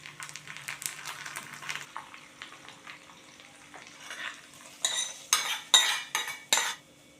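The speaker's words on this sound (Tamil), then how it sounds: "நல்லா எல்லா இடமும் நெய் சேர்கிற மாதிரி கிளறி கொடுக்கணும்." Millet pongal with ghee stirred in a pot: a run of scraping and clinking strokes from a spoon against metal, softer at first, then louder, sharper scrapes in the last few seconds, close up with no speech.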